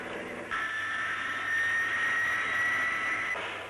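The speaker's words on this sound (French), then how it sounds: "Toutes les 20 secondes, les catapultes lancent un avion de 15 à 20 tonnes." A jet aircraft roars through a catapult launch from the deck of the aircraft carrier Clemenceau. A sustained, loud engine whine holds steady for about three seconds, then cuts off abruptly.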